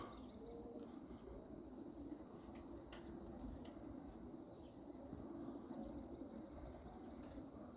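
Pigeons coo softly and steadily at a low level, with a few brief wing flaps and faint bird chirps scattered through; no one speaks.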